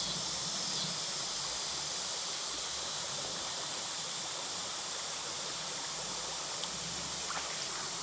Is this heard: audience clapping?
no